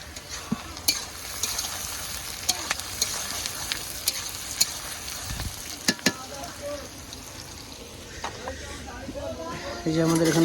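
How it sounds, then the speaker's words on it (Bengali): Onions fry in a pot at an outdoor picnic, a steady crackling sizzle punctuated by clicks and utensil knocks, with people talking nearby. "এদিকে পেঁয়াজ ভাজা প্রসেস চলছে"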